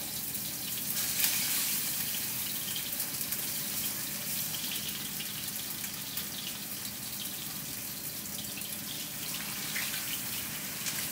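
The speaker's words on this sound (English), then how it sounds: "So get these bad boys sizzling up." Steady crackling sizzle of meat frying in olive oil in a hot pan, continuous and fairly close, with a watery hiss running throughout.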